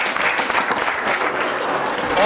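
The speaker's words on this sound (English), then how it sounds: "Can you please clap yourselves?" A classroom of secondary-school students applauding themselves, steady close clapping filling the room with faint voices underneath.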